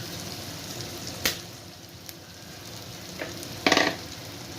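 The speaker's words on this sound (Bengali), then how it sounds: "এরপর দিচ্ছি মটর" Peas tipped into chicken keema frying in a pan and stirred, a low continuous sizzle punctuated by a few sharp scraping clatters of the spatula, close and clear.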